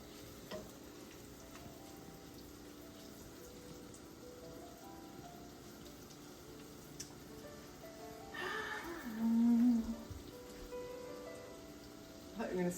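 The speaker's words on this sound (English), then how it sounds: "it's starting to sizzle a little" Chicken for pollo con crema sizzles softly in a hot pan, a faint steady frying hiss with occasional stirring clinks and brief louder moments, while people talk intermittently in a home kitchen.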